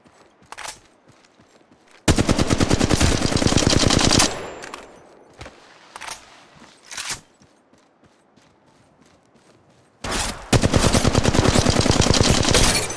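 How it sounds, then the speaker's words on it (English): Machine gun fire in the mobile shooter Apex Legends Mobile, two long, loud, rapid automatic bursts close by, separated by a few shorter shots and mechanical clicks in a quieter gap. "Firing. Opening fire."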